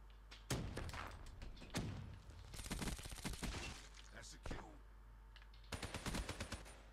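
Man-O-War rifle fire in Black Ops 3 on PS3: quick automatic bursts of sharp shots separated by short gaps, fairly quiet overall, with a low steady hum beneath.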